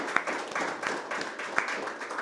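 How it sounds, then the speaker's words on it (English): Audience applause at a finance talk on where to find money and becoming the bank; a modest group claps unevenly at a moderate level, with a few sharp individual claps standing out and no speech. "Let's give Alex a round of applause."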